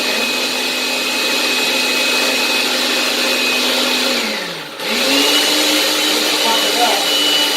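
Countertop blender whirring steadily as it mixes a Hurricane cocktail, a loud continuous motor drone that dips briefly as the load shifts, then picks back up to full speed.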